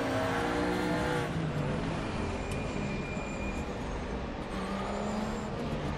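A four-wheel-drive DTM '92 race car engine at Hockenheim in the RaceRoom Racing game roars continuously, a loud steady drone that shifts pitch as it changes gears, with no talk over it.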